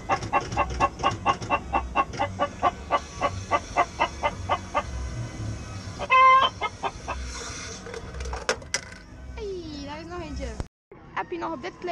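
A rhythmic series of clucks from a chicken figure on an Efteling kiddie carousel, repeating steadily at close range while a person talks over the ride noise.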